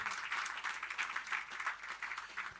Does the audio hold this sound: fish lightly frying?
no